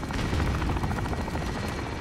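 A VTOL aircraft in Call of Duty: Modern Warfare roars with a dense, rumbling engine drone, its rotor-like pulsing loud and continuous throughout with no talk.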